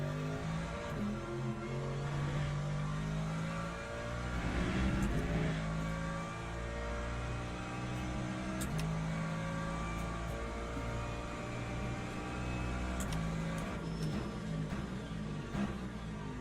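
Race car engine in the racing game Le Mans Ultimate, a continuous droning whine that rises and falls with revs and gear changes, steady and up front with no talking.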